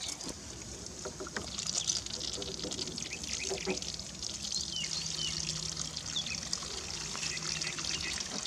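Water from a homemade gravity-powered siphon pump flows through a shower head in a quiet, continuous trickle and splash, faint and steady throughout.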